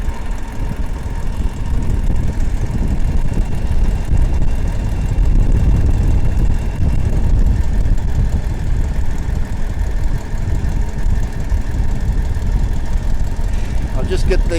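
Rotec Renegade aircraft engine idling just after being started with a bit of choke, a dense, steady low thrumming rumble held at close range for the full stretch, with a faint rattle toward the end.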